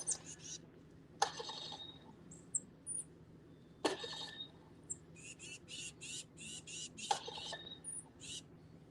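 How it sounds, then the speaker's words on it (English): A tufted titmouse gives scattered high, scratchy calls at a distance, with sharper chip notes breaking through a quiet outdoor background. "I have a titmouse up in the tree."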